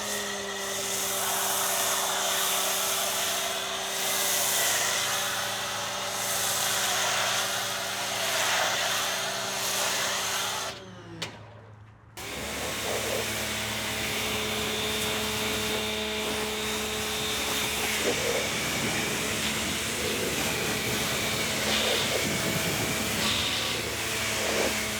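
A Ryobi 1.8 GPM electric pressure washer runs with a loud steady motor whine, cuts out abruptly for about a second, then restarts with a rougher, hissing spray tone.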